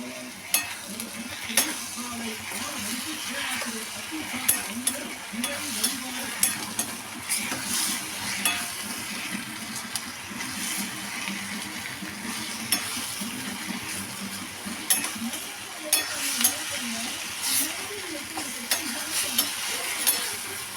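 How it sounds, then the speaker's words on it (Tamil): Tomatoes and onions sauté over raised heat in a pan for tomato chutney, giving a steady sizzle broken by frequent scraping stirs at close range, with no voices. "கொஞ்சம் அடுப்பை கூட்டி வச்சு வதக்கிக்கிறோம்."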